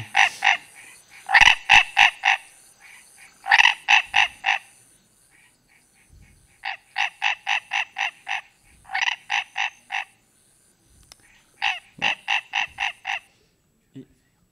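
Pipa frogs in a French Guiana marsh call in repeated bursts of rapid clicking pulses, several trains of five to eight quick notes separated by short pauses, clear and fairly close against a quiet night background.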